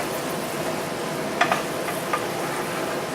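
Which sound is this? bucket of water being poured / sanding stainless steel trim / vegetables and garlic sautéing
vegetables and garlic sautéing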